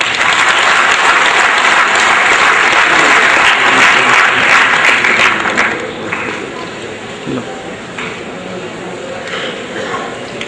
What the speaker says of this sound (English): I request you all to please welcome him with a big round of applause.